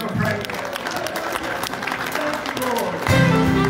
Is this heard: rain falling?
no